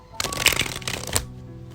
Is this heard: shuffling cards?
yes